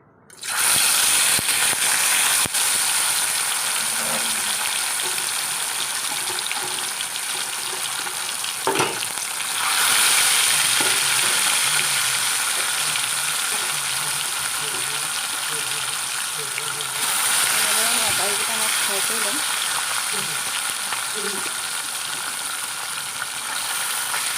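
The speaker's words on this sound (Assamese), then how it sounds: "ইয়াত এতিয়া মাছকেইটা মই ফ্ৰাই কৰি ল'ম।" Mirika fish frying in hot oil in a wok, a loud, continuous sizzle close to the pan, swelling at moments as pieces go in or are moved, with no speech.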